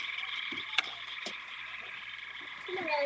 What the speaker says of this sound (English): I can hear them damn frogs.